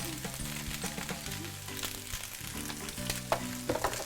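Chinese fried rice with Chinese sausage frying in a pan over lowered heat, a close continuous sizzle with scraping and stirring clatter from a utensil, and some faint tonal background music.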